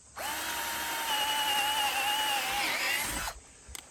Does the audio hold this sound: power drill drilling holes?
yes